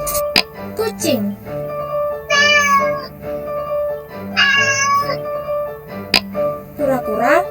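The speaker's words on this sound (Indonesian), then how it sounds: "kucing" A domestic cat meows twice in drawn-out, rising-and-falling calls, close and clear, with short clicks and faint background tones between them.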